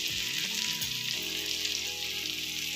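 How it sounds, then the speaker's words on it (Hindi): Onions and tomatoes fry in a pan, giving a continuous hissing sizzle close up. A low humming tone runs underneath. "प्याज और टमाटर अच्छे से फ्राई हो गए"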